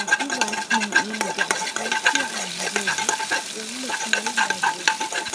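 Coriander seeds frying in oil, a steady close crackle with repeated scraping stir strokes and short spoon taps throughout, no voices.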